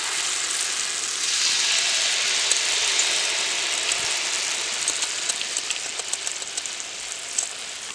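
A rose cookie (achu murukku) mould dipped in hot oil makes a steady, close sizzling hiss, with small crackles and pops rising toward the end.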